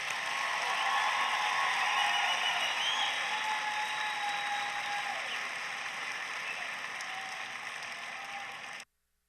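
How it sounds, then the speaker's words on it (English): Sustained applause from a large crowd at the Iowa FFA State Leadership Conference general session, loud and continuous, fading slightly before cutting off abruptly near the end. "Let's give a round of applause for Governor Kim Reynolds and Lieutenant Gov"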